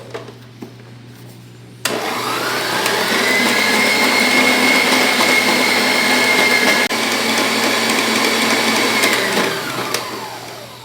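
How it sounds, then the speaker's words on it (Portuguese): Electric stand mixer beating three egg whites to stiff peaks: a sudden start into a loud, steady whirring motor drone that holds for about eight seconds and then winds down, with no voices over it. "Aqui nós temos 3 claras, nós bateremos até o ponto de neve"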